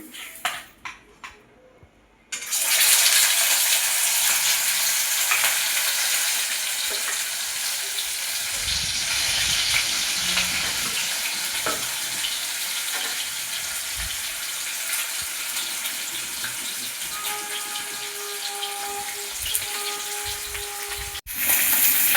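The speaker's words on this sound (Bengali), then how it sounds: "তেল গরম হয়ে গেছে মাছটা আস্তে করে দেবো করে দিয়ে মাছটা ভেজে নেব" Loud, steady sizzling of catla fish frying in hot oil, starting abruptly after a quiet moment and continuing throughout with faint clinks.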